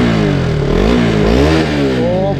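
A motorbike engine just cold-started revs loudly up and down, rising and falling pitch with a rough clattering idle underneath, close by.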